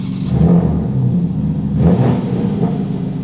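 A BMW G80 M3 with its exhaust valve open, revving twice in a row: two loud, rising engine bursts with a rumbling idle in between, heard alone with no voices.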